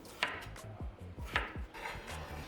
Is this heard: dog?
no